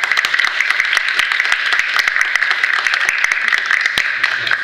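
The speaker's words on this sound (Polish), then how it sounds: "Tak, brawa." An audience in a lecture hall claps together in brisk, dense applause, steady and fairly close for a few seconds without voices.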